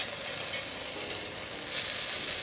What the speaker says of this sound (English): I finished browning my second batch of beef, and I'm taking it out of the pan.